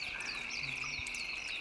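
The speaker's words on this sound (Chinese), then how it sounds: "那个是青蛙。" A frog in a rice paddy lets out one short, low croak close by, against a steady high insect drone and a few faint chirps.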